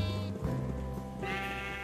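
Minecraft sheep bleating in a video game, a couple of close, clear bleats in quick succession with no talking.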